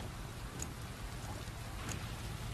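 Steady patter of a passing rain shower, soft and even with occasional louder drops, continuous and fairly faint, with no voices.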